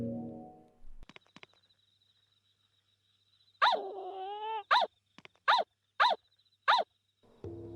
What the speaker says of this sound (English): This is Yui's dog